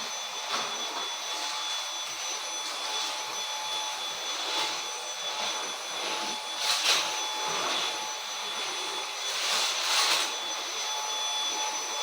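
A vacuum cleaner drones continuously nearby, a loud, even whine with occasional brief surges as it moves across the floor.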